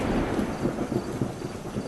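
Heavy rain pours steadily outside with low thunder rumbling underneath, a dense continuous roar that fills the whole stretch with no voices.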